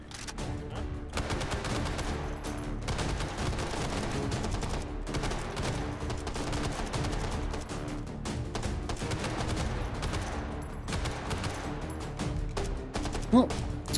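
M60 machine gun firing in the VR shooter Hot Dogs, Horseshoes & Hand Grenades, a steady stream of rapid automatic bursts at moderate level with short gaps, continuing throughout.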